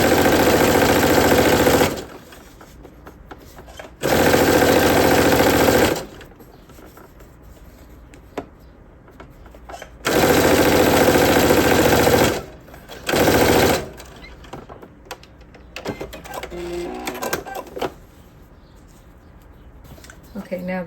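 A sewing machine stitches down a fabric strap for a top in loud, steady bursts of a few seconds each, stopping and starting between runs, with quiet gaps of handling in between.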